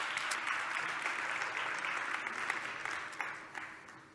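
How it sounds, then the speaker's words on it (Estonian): Warm applause from an audience at the Estonia's Best Beer Sommelier 2018 competition honours the winner, a dense, steady clapping that holds for several seconds and then tapers off at the end. "Siinkohal taaskord soe aplaus"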